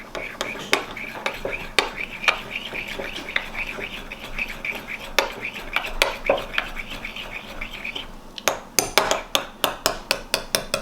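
A utensil scrapes and clinks against a bowl while garlic paste is mixed for a banh mi, with a steady run of taps and scrapes. The strikes turn into a quicker, sharper series of clicks near the end.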